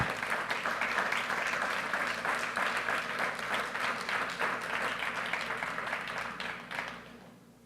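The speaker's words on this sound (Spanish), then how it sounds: "Dele fuerte un aplauso al Señor." Sustained applause from a crowd, steady and loud for several seconds before fading out at the end.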